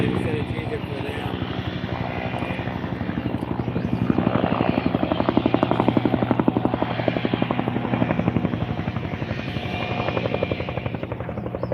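A helicopter's rotor thumps steadily and loudly overhead at a brush fire in a Riverside County riverbed, its rapid chopping pulse continuing without a break.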